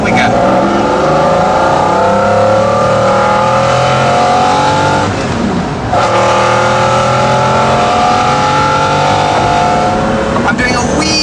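A McLaren F1 road car pulls away in second gear, its engine rising in pitch in a long loud climb, easing briefly and then building again, heard close over wind and road roar.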